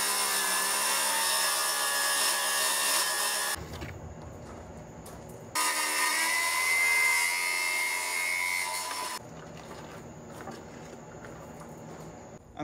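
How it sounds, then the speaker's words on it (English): A power saw rips tropical hardwood strips for a boat transom in a workshop, a loud, sustained high whine in two long cuts separated by quieter gaps of lower motor hum. "I'm cutting the strips for the transom here"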